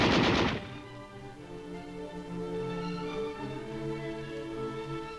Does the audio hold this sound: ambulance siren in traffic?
no